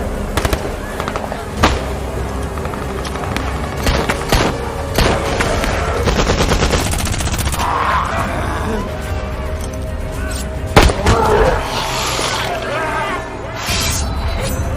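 Gunfire in a zombie film shootout: loud, continuous bursts of rapid shots and booms crackling together, with a voice speaking now and then underneath.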